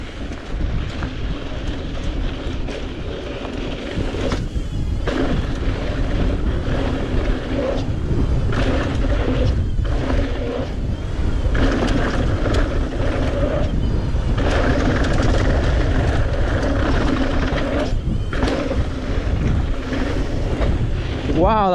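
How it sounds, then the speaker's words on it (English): Strong wind gusts roar across the microphone during big-jump sailing on open water, a loud continuous buffeting rush with surging peaks, mixed with water and hull noise. "Wow, that was windy."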